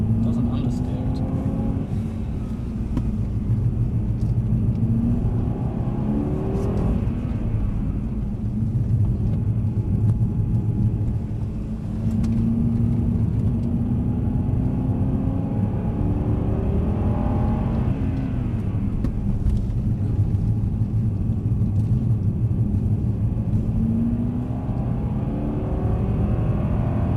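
Engine of a Mercedes C63 AMG driven on a skid pan and circuit, a steady low rumble rising and falling with throttle through the whole stretch, with a voice talking over it.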